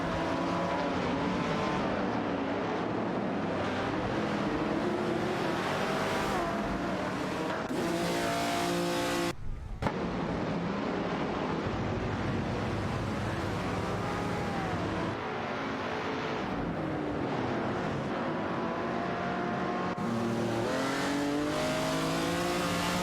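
Race cars in an AI racing video game roar past and rev hard through gear changes, engines whining and rising in pitch with occasional tire squeal, loud and continuous with no talking.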